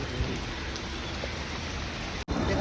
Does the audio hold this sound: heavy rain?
yes